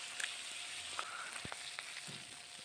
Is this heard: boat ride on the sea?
no